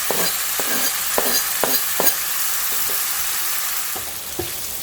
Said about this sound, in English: Let's add 3 tomatoes, moderately chopped, not too fine, not too big, moderately chopped.